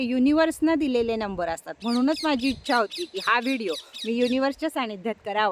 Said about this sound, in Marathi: बघा पक्ष्यांचा सुद्धा किलबिलाट आहे